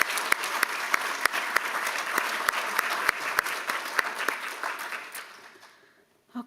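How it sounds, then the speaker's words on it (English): A modest audience at a nursing school awards and scholarship ceremony gives a round of applause, with a few sharp individual claps standing out before the clapping thins and fades near the end. "Let's give them a round of applause."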